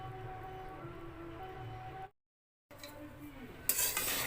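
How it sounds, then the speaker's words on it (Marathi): Sesame seeds dry roasting in a pan for til laddoos make a faint, steady scraping rustle of stirring. A brief silent break follows, then brighter, crackly stirring near the end. "आता हे असे मी तीळ भाजून घेते"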